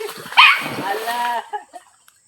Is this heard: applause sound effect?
no